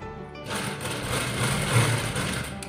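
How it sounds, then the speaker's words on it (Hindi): A sewing machine stitches a straight seam on a chudidar salwar, running as a steady, close mechanical whir that starts abruptly and holds an even buzz throughout. "फिर यहाँ से हम ऐसे सीधा सिलाई मारते हुए आ जाएंगे।"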